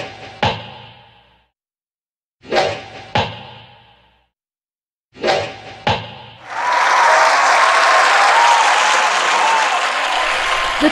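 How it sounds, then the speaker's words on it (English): A crowd at an archery scene in a school drama staging of Robin Hood bursts into loud sustained cheering and applause after a few sharp knocks and thumps separated by silence. "The crowd cheered from this brilliant archer."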